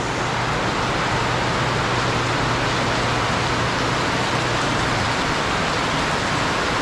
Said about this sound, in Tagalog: malakas na rin yung ulan